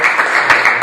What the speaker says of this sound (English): if we could just give our panelists a round of applause just for being here